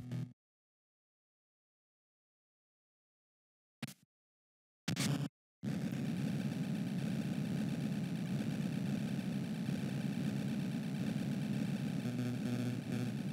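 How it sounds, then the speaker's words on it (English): An elevator running in Metal Gear Solid: Ghost Babel, a steady low mechanical hum that starts after a few brief clicks and silence, then drones on evenly and moderately loud. "I've just activated the elevator."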